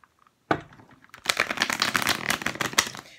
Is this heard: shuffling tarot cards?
yes